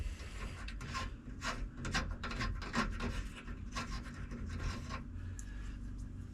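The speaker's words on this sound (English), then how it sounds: "I brought some window cleaner and a rag. So let's get this off of there." A rag with window cleaner wipes the wing window of a 1972 Nova, making quiet, repeated rubbing strokes in an uneven rhythm close by, with no speech.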